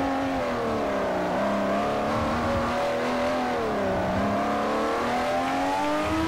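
A Ferrari 599 GTO engine in Forza Motosport 4 drones steadily at high revs, pitch gently dipping and climbing as it shifts, continuous and smooth, with no talking.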